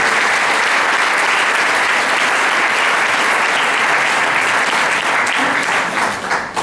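Sustained, dense audience applause for Professor Muhammad Yunus at a public talk, loud and even throughout, tapering slightly at the very end.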